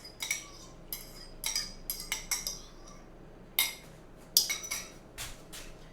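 Cutlery and dishes clink and clatter in a home kitchen sink during cleanup, a series of sharp metallic and ceramic knocks spaced irregularly, fairly close, with no talk.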